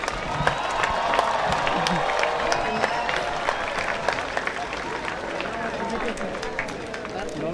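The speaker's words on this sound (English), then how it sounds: "Let us applaud the newest doctors in town." An audience at a university graduation ceremony applauds steadily for newly conferred doctors, a dense, even wash of many hands clapping with crowd murmur throughout, fairly loud and sustained.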